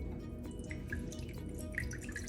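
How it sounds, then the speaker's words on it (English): Room-temperature water, a couple of cups, trickles and drips into a container, quiet and close, with small splashes and plinks over a low background hum. "Let's add some room temperature water"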